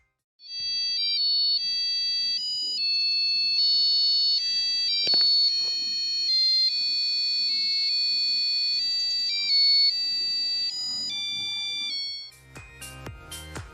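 A shrill Arduino piezo buzzer plays the Harry Potter theme as a steady, beeping melody of discrete tones for about twelve seconds, then stops abruptly, followed by a brief clatter.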